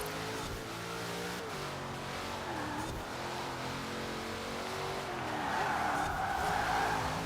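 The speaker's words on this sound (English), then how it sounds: "drifting a little bit here and there" Tyres of a Ford Shelby GT500 squeal and skid through a drift in the Forza Horizon 4 racing game, a continuous loud screech over the steady engine drone, rising near the end.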